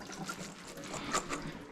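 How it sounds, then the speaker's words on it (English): Kitchen sprayer rinsing chili ingredients under running water, a steady close splashing trickle with no talking. "I'll use my sprayer to give them a nice wash."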